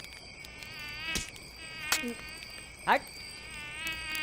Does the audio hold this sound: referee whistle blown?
no